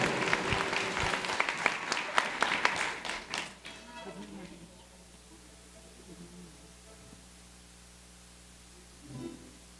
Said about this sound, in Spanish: El aplauso bien bonito para el alcalde.